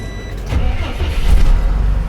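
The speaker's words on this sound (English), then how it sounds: "I'm going to turn the vehicle on and I'm going to let the governor build up until the pressure is between 120, 140" A Class A truck engine cranks and catches up close inside the cab, the low rumble swelling after half a second and holding as a loud, steady idle with no one speaking.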